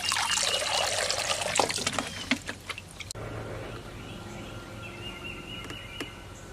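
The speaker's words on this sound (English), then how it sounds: "I'm putting rainwater into this container" Rainwater pouring from a container into another vessel, a close trickling splash that fades into a lighter dribble, with faint outdoor ambience behind.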